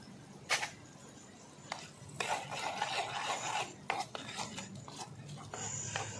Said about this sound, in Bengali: এবার কষিয়ে নেব এইভাবেই, অল্প অল্প জালে এইভাবে নাড়িয়ে নাড়িয়ে একদম পুরো শুকনো করে নিতে হবে।